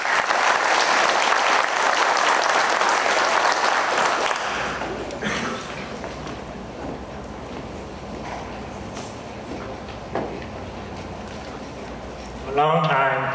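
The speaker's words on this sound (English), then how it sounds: "Let's give a round of applause for Mr." Audience at an appreciation dinner clapping for Mr. Nguyen, loud and dense for the first few seconds, then thinning out into scattered claps and room noise before a voice briefly starts near the end.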